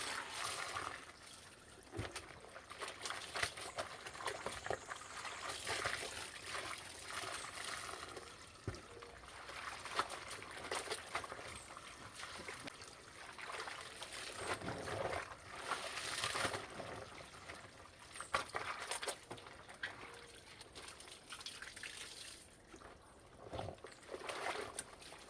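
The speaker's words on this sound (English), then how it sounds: "Look on the rinsing process now. I rinse them 2 times." Clothes are rinsed by hand in water outdoors, with continuous splashing, sloshing and dripping close by that swells and fades in uneven surges over a long stretch.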